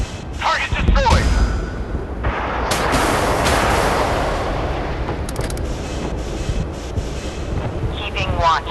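Warship gunfire in the Force of Warships naval video game: a deep booming blast followed by a rumbling roar and faint background game effects, with a voice speaking.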